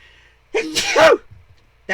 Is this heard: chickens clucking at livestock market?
no